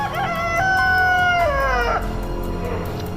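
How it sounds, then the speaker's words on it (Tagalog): A rooster crows once, loud and near, a rising then falling cock-a-doodle-doo lasting about two seconds, followed by quieter background. "Tuwing madaling araw, maririnig mo ang pagtilaok ng mga manok."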